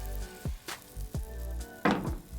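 A hake fillet sears in oil in a large sauté pan over medium-high heat, giving a brief close sizzle broken by a few quick scrapes and shifts of the fish.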